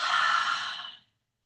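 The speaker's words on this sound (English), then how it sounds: "nice deep inhale in slowly through the nostrils. And nice big exhale." A long, steady exhale through the nose during a Yin yoga breathing practice, breathy and close, fading out after about a second into silence.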